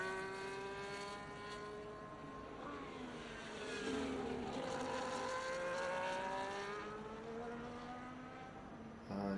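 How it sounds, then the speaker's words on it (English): A race car at a sim-racing event in Mexico revs hard in a sustained tyre-warming burnout, its engine note climbing and falling through several sweeps, fairly faint and distant with no talk over it. "Bacardi is definitely doing a burn of that,"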